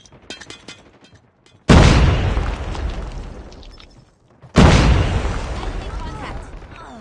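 Frag grenade explosion in Call of Duty Mobile: two loud, close booming blasts a few seconds apart, each a sharp onset with a long rumbling decay, after faint crackling gunfire.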